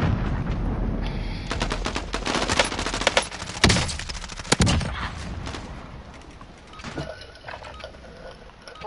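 Video-game gunfire rattles in rapid automatic bursts, dense and loud for most of the stretch with a few sharper single cracks, thinning out toward the end.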